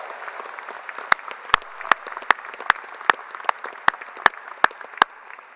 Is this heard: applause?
yes